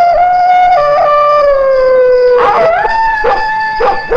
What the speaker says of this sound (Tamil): அதான் எந்த சத்தத்தை கேட்டாலும் குலைச்சுக்கிட்டு கிடக்கு